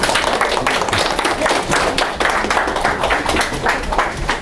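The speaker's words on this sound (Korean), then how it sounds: "뜨거운 박수로 맞아주십니다" Dense, sustained clapping from a university lecture audience welcoming a speaker, steady and loud throughout with no voices on top.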